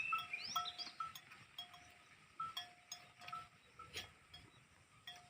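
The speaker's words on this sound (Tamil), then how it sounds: "இது வந்து வெள்ளாடு." Goats grazing at Palani Balasamudram let out a few faint, distant bleats, scattered in short cries over a quiet outdoor background.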